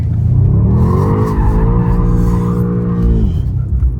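A BMW M5 G90 slides sideways in a drift, its tires letting out a loud, sustained squeal over the steady roar of the engine, holding for about three seconds before easing off.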